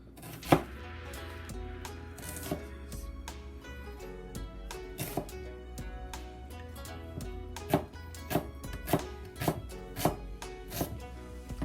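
A knife chops fresh shallots into small pieces on a board, giving crisp, evenly spaced thuds in clustered bursts, close and clear with a faint background hum.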